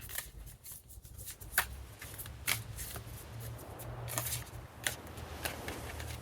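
Tarot cards being shuffled by hand close to the mic, a run of soft riffling and sharp flicking snaps in an irregular rhythm, fairly quiet and with no speech.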